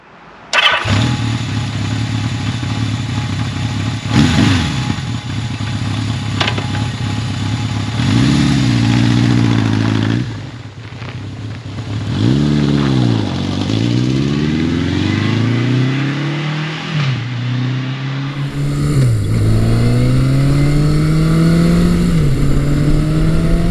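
A 1980s Yamaha motorcycle, an XS1100, FJ1200 or XJ1100, starts up and is ridden, its loud engine revving and climbing through gears with drops between shifts, close and continuous without talk.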